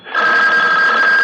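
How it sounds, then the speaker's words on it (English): A telephone bell rings in one steady, loud, sustained burst in a radio drama scene, clear and alone with no talk over it. "The phone."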